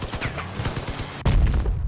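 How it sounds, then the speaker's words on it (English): Cannon shell slamming into a vehicle in Crossout, its fender blown off: a sudden heavy boom cuts through ongoing rattling gunfire and engine noise, loud and close. "That was a cannon."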